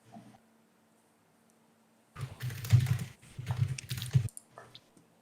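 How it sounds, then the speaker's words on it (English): Computer keyboard typing in short bursts of rapid clicks, fairly close, separated by quiet pauses with no talk. "I just started typing this down."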